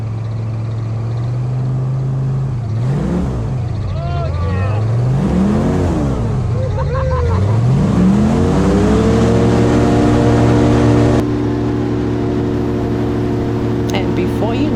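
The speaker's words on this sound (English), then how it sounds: "it's going to get loud, and we're going to do some airboating," An airboat engine cranks, sputters, then revs up and settles into a loud, steady roar, rising in pitch as it runs, in the Florida Everglades.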